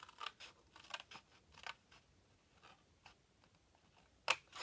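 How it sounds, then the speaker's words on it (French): Scissors snip through paper or card while making a folded cube, a series of short, quiet cutting clicks in an irregular rhythm, ending with one sharper, louder snip. "pourquoi les ciseaux ils se bloquent?"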